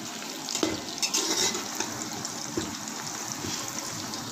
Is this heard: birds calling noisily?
no